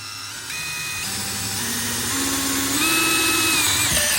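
DeWalt DCD803 cordless drill driving a 3.5-inch deck screw, a steady close whine that climbs in pitch and loudness as the screw sinks, running alone with no talk.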